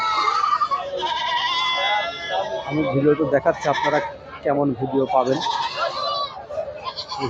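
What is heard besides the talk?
goats bleating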